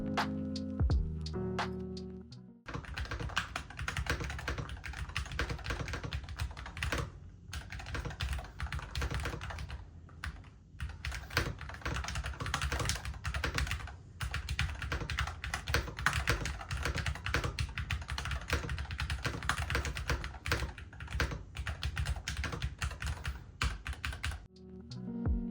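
Typing on a MonsGeek FUN60 magnetic keyboard: a continuous run of close, crisp key clicks and clacks at a fast, uneven pace, heard alone without talk.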